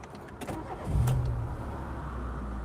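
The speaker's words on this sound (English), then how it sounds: "See, nice smooth running engine." A car engine cranks briefly and catches, then settles into a smooth, steady idle close by, a low even hum continuing to the end with no talking.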